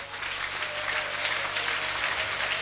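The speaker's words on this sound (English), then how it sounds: "Clap for Jesus." A large church congregation clapping steadily, a dense wash of applause that holds even for nearly three seconds with no voices on top.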